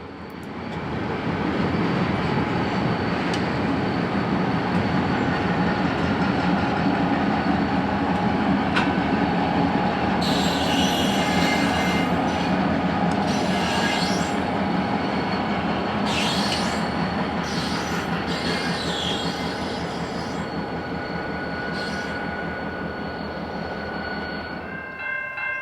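A freight train led by a pair of worn EMD locomotives rolls past at Pine Junction with a steady loud rumble, and high wheel squeals break out repeatedly midway through.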